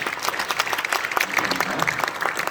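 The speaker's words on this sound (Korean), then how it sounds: "다 같이 박수로 격려하도록 하겠습니다" Dense applause from an audience at a private school foundation mission declaration ceremony, steady crackling clapping that fills the whole stretch at moderate loudness.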